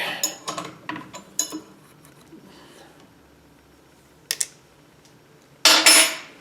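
Wrench loosening the drawbar on a milling machine during a collet change: a series of sharp metallic clicks and clinks, then quiet, followed by a couple of louder clanks and a final harsh metal scrape near the end.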